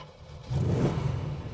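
A 1976 Aston Martin V8 coupe's engine in a semi-cold start: a brief quiet moment, then the V8 catches and settles into a loud, steady low rumble close by, with no talking.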